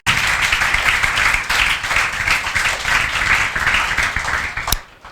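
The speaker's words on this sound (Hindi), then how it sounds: "जोरदार तालियां, सिंगल बच्चे से सही हुआ, बजाओ।" A classroom of students gives a loud round of clapping during a calculus lecture, steady and dense for about five seconds before stopping abruptly with a final sharp knock.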